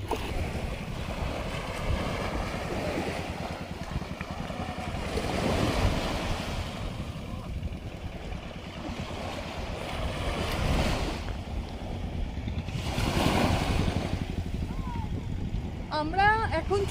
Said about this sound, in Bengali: আমরা এখন চলে এসেছি লালগঞ্জ বিচে।